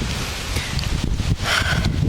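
Gusty wind blowing through a park on a warm day, a rushing, buffeting roar with rustling surges, fairly loud and close, with no one talking.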